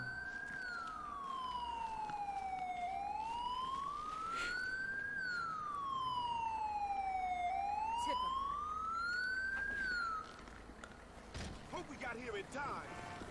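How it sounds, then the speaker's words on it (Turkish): An ambulance siren in the GTA 5 video game wails in long rising and falling sweeps, loud and steady, then cuts off about three quarters of the way through, leaving a brief rustle of game noise. "Ambulans bekliyoruz. Ambulans geliyor."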